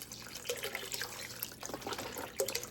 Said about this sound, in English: Now I'm going to pour the chicken broth in.